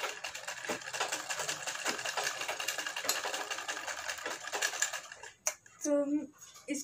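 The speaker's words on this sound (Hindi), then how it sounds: "तो ये सिलाई हम लगा लेते हैं और इसको स्टिच कर लेते हैं।" A sewing machine stitches fabric for a U-neck collar, a fast close mechanical whirring and clatter running for several seconds, then stopping, with someone briefly speaking near the end.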